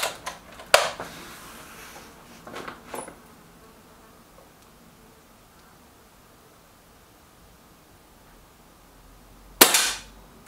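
Reximex Regime air rifle fired at a left-hand target, heard as one sharp crack near the start followed by a couple of softer knocks, then a long quiet stretch before a second sharp shot at the end.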